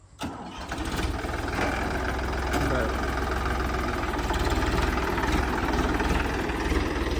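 Farmtrac 45 tractor's diesel engine cranks and catches after a brief pause, then settles into a steady loud, close knocking idle that runs on without a break.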